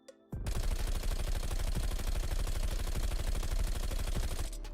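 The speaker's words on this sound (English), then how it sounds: "So this is the Bizon with max attachments gunfight version" Rapid, sustained automatic fire from a Bizon submachine gun fitted with max attachments in Black Ops Cold War, a dense unbroken burst of close, loud shots lasting several seconds before cutting off.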